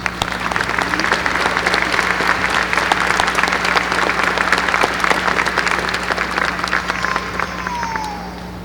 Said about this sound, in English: Please join me in a round of applause for all they have done for our students